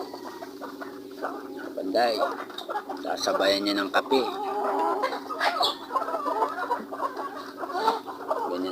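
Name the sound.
native chickens clucking while being fed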